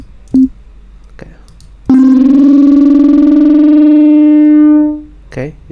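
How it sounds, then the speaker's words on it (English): A sustained, buzzing synth tone with growling feedback distortion from Ableton 12's Roar effect rings for a few seconds and then fades, preceded by short blips and clicks. "these growling sounds, feedback"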